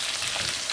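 Tuna steak searing in a hot pan, a dense, continuous loud sizzle with no pauses or voices.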